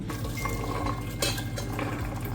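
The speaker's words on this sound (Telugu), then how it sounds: "సో ఎక్సెస్ వాటర్ ఉన్నవి మొత్తము ఇలా వంపేసుకున్నాను." Excess water is poured off boiled chana dal, making a short, close splashing pour with faint clinks of a metal vessel.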